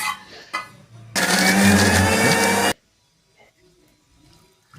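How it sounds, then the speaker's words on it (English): A kitchen blender grinds fried methi and mint leaves into a dry paste for Donne chicken biryani, running as a loud, dense whir for about a second and a half between faint bits of talk and then cutting off to quiet. "Now let's make the paste out of it whatever we have fried it"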